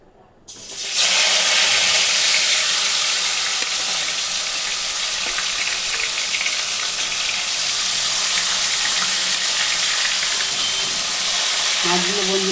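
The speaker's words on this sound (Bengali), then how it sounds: "মাছগুলো বন্ধুরা আগে ভালো করে ভেজে নিই।" Catla fish fries in hot oil in a wok, a loud, dense, steady hissing sizzle that erupts within the first second and roars on close up without talk.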